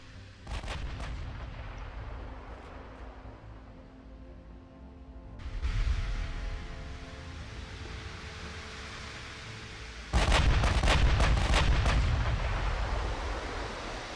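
Heavy battleship main-gun salvos from Ultimate Admiral Dreadnoughts boom in three big bursts, with sharp cracking reports and a rolling, roaring rumble sustained between them, loud and alone.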